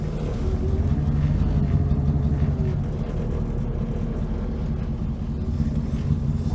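An old junkyard car is driven off on a cold day, its engine running steadily with a low, rough rumble that stays close and constant throughout, with no voices.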